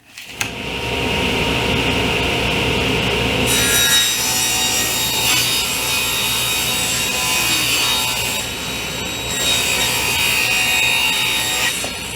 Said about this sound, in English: then I'll run it down the table saw to square everything up nicely